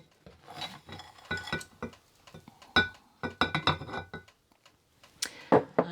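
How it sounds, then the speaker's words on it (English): Caustic soda being added to homemade lavender tea in a container, heard as a series of sharp glassy clinks and taps against the vessel, close and fairly quiet, with brief pauses between them. "I'm going to put it into the lavender tea that I made."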